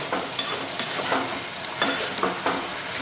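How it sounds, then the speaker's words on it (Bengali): Potatoes and carrots fry in a pan for breakfast, giving a steady close sizzle broken by a few sharp scraping stirs, with no talking. "এদিকে আলু আর গাজর ভাজা বসাইছি"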